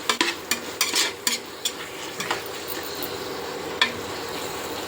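Tomatoes sauté for a biryani in a pan, a steady close sizzle punctuated by repeated scraping stir strokes and spoon clatters early on, then settling into an even frying hiss.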